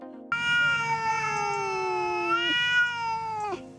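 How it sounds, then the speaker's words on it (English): A cat gives a single long, drawn-out meow, clear and close, sliding slightly downward in pitch before cutting off, with nothing else heard. "cat sounds transform and mutate far beyond basic cat meowing"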